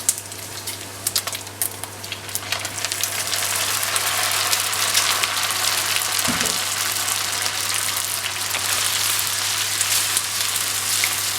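Pasta tossed into a hot pan with bacon and garlic for carbonara, giving a steady, fairly loud sizzle and fry that holds through the whole stretch with a brief clatter midway.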